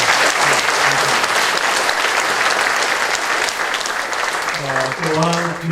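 A church congregation bursts into sustained applause during a relocation service in Seoul, a dense even wash of clapping throughout, with a voice starting to speak over it near the end.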